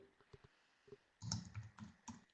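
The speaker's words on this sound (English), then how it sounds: "Martin, Andrea, everybody is typing" Keys on a computer keyboard clatter during a webinar, a few faint isolated taps at first, then a denser burst of quick, clicky keystrokes up close with no one speaking.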